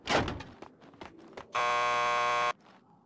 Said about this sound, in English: Want to get to the lockup? Just press the buzzer by the door.